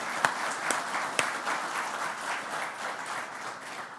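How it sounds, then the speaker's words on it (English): An audience at a conference session applauding together, steady massed clapping with a few sharp louder claps near the start, moderately distant and fairly even throughout. "a wider round of applause for everybody involved today"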